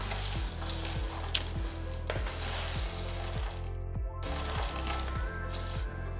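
Cabbage fry sizzles loudly in a pan, a continuous crackling hiss broken by regular scraping knocks as the mixture is stirred and tossed.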